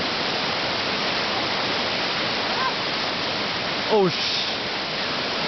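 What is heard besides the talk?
fast-flowing river after rain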